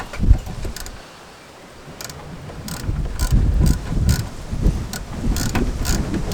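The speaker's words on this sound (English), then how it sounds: "refit the battery, starting with the red, and then the black, and then we just need to tighten them up" A ratchet wrench tightens the battery terminals on an MG TF in short, repeated bursts of clicking, each lasting under a second. Between them are quieter gaps with light metallic handling noise.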